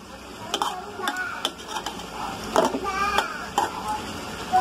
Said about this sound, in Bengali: দিয়ে একটু ভালোভাবে নেড়ে দিচ্ছি